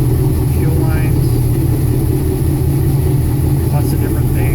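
A 1972 Chevrolet Nova SS with a new stock exhaust system and stock manifolds idles close by, a steady low rumbling burble, with someone talking over it.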